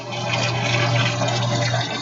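Water is poured continuously into a dog's bowl, a steady close splashing rush with no talking.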